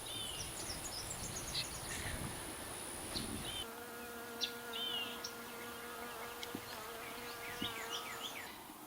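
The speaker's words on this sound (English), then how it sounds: "We already have some bees coming around to check them out." Honeybees buzz faintly around freshly placed queen cages outdoors, a steady soft drone with individual bees flying close past, a few higher whines weaving through, and faint birdsong in the background.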